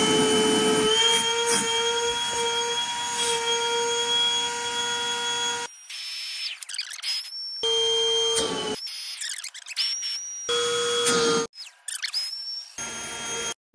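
A Milwaukee shop vacuum motor whines loudly and steadily with a high tonal pitch, then cuts in and out in abrupt bursts, leaving gaps of near silence between screaming runs.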